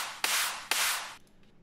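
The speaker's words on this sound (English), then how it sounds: "This is the clap, that big room, big wash clap you always hear." Big-room wash clap sample from a progressive house remake, two loud bright hits with long noisy tails, evenly spaced and alone.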